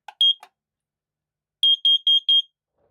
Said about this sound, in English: The carbon monoxide alarm in the kitchen.